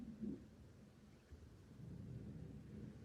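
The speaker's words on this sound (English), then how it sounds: "Do you guys hear that thunder?" Faint, distant thunder rolls as a low, soft rumble during a storm, swelling and fading over a few seconds with light rain-like hiss, no voices.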